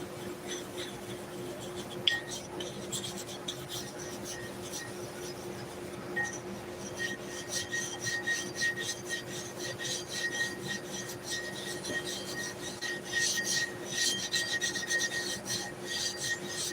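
Lister large animal clipper blades rasping over 180 grit abrasive in a steady run of close, gritty rubbing strokes, with faint clinks and no talk.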